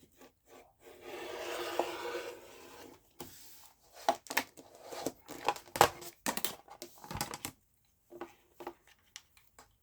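A fabric trimmer cuts along a marked line in a sewing project: a steady rasping rub for a few seconds, then a run of short, crisp snipping and scraping bursts, close and fairly quiet, with no voices.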